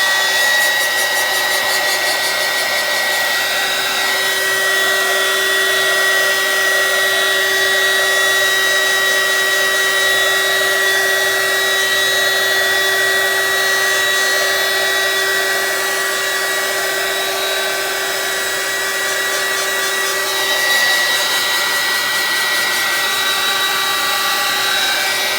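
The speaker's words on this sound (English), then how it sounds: "I would like to take the heat gun to this now, just to pop any bubbles" A heat gun blows over freshly poured resin art to pop surface bubbles, giving a loud, steady whooshing whir with a faint whine that runs unbroken throughout, with no voices.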